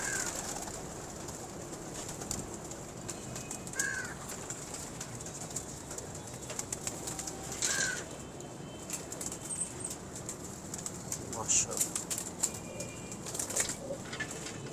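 Flocking pigeons bred for balance flap their wings in short, brisk bursts against a steady outdoor hiss, with faint coos and chirps scattered across the stretch.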